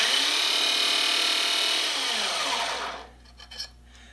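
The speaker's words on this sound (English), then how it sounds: "And actually sharpened the bit" A Black & Decker 7980 drill sharpener grinds a drill bit with a steady, loud, high whine for about three seconds. It then cuts off and winds down, leaving a few faint clicks and knocks.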